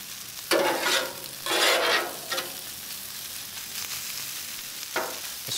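Pork belly and rice for BBQ fried rice sizzle in a hot pan, with several loud bursts of scraping and tossing over a steady background frying hiss.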